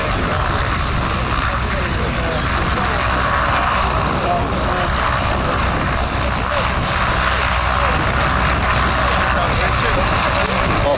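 A propeller aircraft coming in at an airshow, a continuous loud engine drone with broad roar throughout and no clear break.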